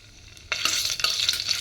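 Ginger garlic paste hits a hot pan and sizzles loudly, with a spoon scraping and stirring through it, steady frying hiss after a sudden start, no voices.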